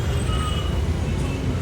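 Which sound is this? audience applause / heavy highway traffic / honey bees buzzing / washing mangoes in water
heavy highway traffic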